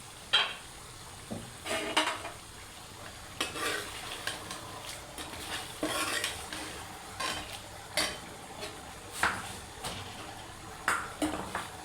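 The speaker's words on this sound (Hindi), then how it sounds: "अब में सब्ज मिर्च डाल दें और अच्छे से चम्मच से हिला के मिक्स कर लें" Spoon stirring chicken karahi in a pot after green chilies go in, with a quiet frying sizzle underneath and repeated short metallic scrapes and clinks at an irregular rhythm; no talking.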